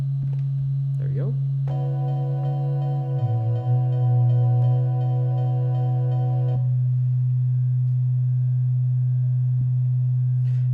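A Roland SP-404 sampler plays synthesized sine wave tones: a steady low pure tone runs throughout, while a stack of higher sustained notes joins for several seconds and then cuts off, with a brief chirp near the start.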